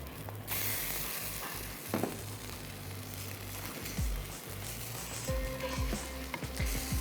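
Beh gosht cooks in a pot with a soft, close sizzle and bubbling, low and fairly quiet, with a few clinks and scraping stirs toward the end and no talk.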